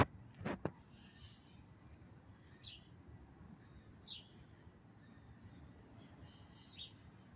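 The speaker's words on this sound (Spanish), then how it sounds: "Escucha cómo canta el pájaro." A few short, faint bird chirps sound at intervals over a quiet garden background among clay pots, with a couple of sharp clicks near the start.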